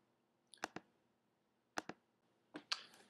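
Computer mouse clicks while saving software settings, three sharp paired clicks spaced about a second apart in a quiet room, close and crisp.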